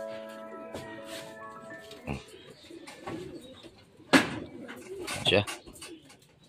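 Racing pigeons coo and flutter during a derby race arrival at a loft, with a few sharp wing-flap bursts and soft cooing amid murmured talk nearby.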